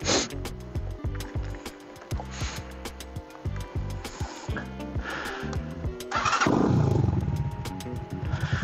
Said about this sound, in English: Exhaust is making a lot of noise.